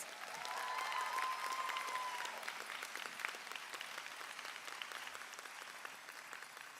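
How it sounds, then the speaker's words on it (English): A crowd of newly graduated PharmD students applauds at their pharmacy school convocation, a steady wash of clapping that is loud at first and then gradually thins and softens, heard from a distance in a large hall. "Give yourselves a round of applause"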